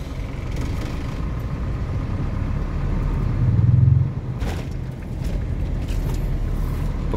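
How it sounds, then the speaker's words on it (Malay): A car approaches on a narrow village road, a low steady rumble that swells to a peak near the middle and then eases off, with constant background engine noise throughout. "Kereta sebiji datang."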